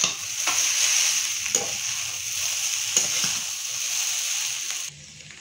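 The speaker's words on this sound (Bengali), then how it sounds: "ভেজে রাখা ডিম এবার একটু নেড়ে চেড়ে নিতে হবে" Fried eggs sizzle in a frying pan while being stirred, a steady close hiss broken by a few soft scrapes before the sound cuts off.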